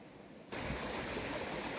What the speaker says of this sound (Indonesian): Jadi kita di samping sungai itu airnya jernih sekali dan dingin